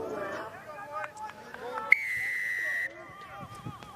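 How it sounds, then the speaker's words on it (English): A referee's whistle blows once to start a professional rugby match in Marietta, Georgia: a single sharp, sustained, piercing blast of about a second, heard through crowd and stadium ambience with a commentator's voice around it. "The whistle from Mike Lash."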